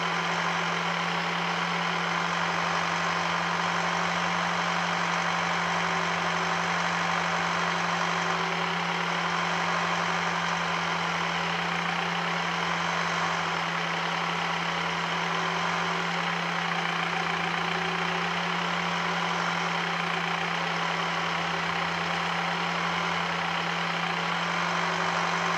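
Steady engine drone of a farm vehicle driving out to field number 10 on the Rabacino map in Farming Simulator 19, a constant loud hum with a strong low tone and no talk.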